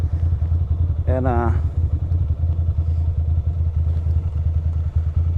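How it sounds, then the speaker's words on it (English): A Ducati motorcycle engine runs steadily after being restarted, a continuous low rumble close by with a brief voice cutting in near the start. "I'm just glad the bike started back up"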